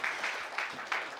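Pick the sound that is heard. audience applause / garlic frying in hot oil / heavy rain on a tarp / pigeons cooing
audience applause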